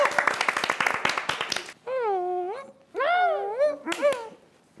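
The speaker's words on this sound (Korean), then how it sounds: "박수 쳐 주세요. 박수." A small group claps in quick bursts for under two seconds indoors, then the clapping stops and voices take over with drawn-out exclamations.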